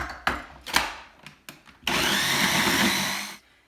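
A handheld blender whirs through a sauce of lime, oil, garlic, coriander, honey, salt and pepper, preceded by a few knocks and clatters, then a steady loud motor drone for about two seconds before cutting off.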